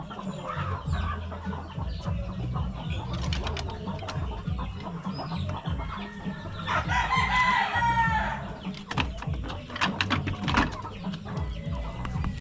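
A breeder rooster crows, a long strained call rising around the middle, amid farmyard clucking and other fowl calls, with steady low background noise throughout.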